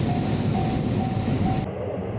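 Train rolling through the underground platform of Osaka Station on the Umeda freight line, a steady loud rumble with a faint intermittent tone that cuts off sharply near the end.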